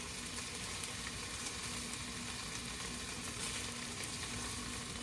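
Food fries in a pan during cooking, a steady, faint crackling sizzle that stays constant with no voices over it.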